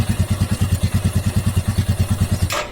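A motorcycle idles steadily during a chain oiler test run, its engine thumping in an even, rapid rhythm close by until a brief noise cuts in at the very end.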